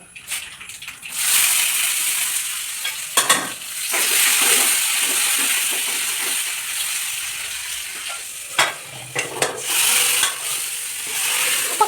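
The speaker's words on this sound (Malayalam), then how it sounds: "കടുകും വറ്റൽമുളകും കുറച്ച് ഉലുവയും വേപ്പിലയും കൂടെ പൊട്ടിച്ചിട്ട് അതങ്ങോട്ട് വറുത്തിടുക" Mustard seeds, dried red chillies, fenugreek and curry leaves tempering in hot oil give a steady, close sizzling hiss with scattered crackles and pops, plus a few louder bursts as the pan is stirred, heard alone.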